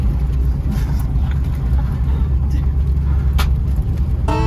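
An off-road vehicle running in 2WD with open diffs on a local trail, its engine and tyres giving a steady low rumble with some rattles and a brief sharper whine near the end.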